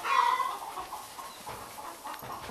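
Farm chickens clucking in a winter barnyard, a cluster of louder calls at the start fading into scattered softer clucks and rustling nearby.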